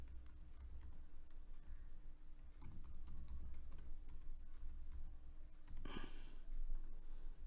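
Keys tapped on a computer keyboard while a password is entered, sounding as soft, irregular clicks in short bursts over a steady low room hum.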